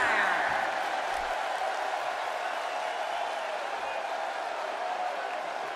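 Wrestling arena crowd in the WWE 2K17 video game, a steady broad roar of cheering and applause that holds near-constant and slowly eases, with no distinct voices standing out.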